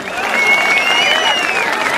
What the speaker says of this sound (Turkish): Daha kuvvetli bir alkış istiyorum.